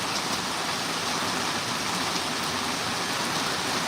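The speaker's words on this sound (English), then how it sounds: "it's definitely raining tough out here" Heavy rain pours down outdoors in a steady, dense wash of noise that stays loud and unbroken, with no talking.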